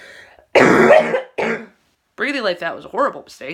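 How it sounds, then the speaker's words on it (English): A harsh throat-clearing cough from a person with bronchitis bursts out, followed by a strained voice speaking in short, uneven phrases. "tired of coughing."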